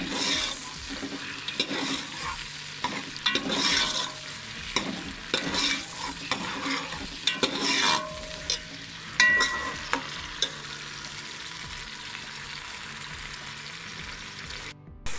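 Ginger garlic paste and tomatoes sauté in a pan for tadka moong dal, with repeated close stirring strokes over a low frying sizzle, busier at first and then settling into a quieter, even hiss.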